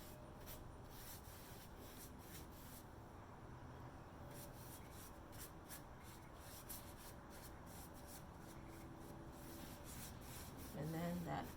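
Annie Sloan dark wax is rubbed over a clear-waxed surface, giving a faint, steady scrubbing texture with repeated strokes throughout and a few slightly louder touches near the end.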